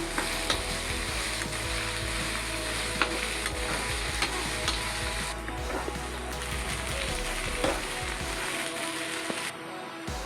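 Cloves, shahjeera and cinnamon sizzle and fry in a pan while a spoon stirs and scrapes them, with small clicks over a steady crackling hiss.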